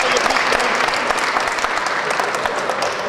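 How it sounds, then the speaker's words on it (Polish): A room full of people claps loudly and steadily for a few seconds at a diocesan chess league event, a dense continuous patter of applause. "Wielkie brawa."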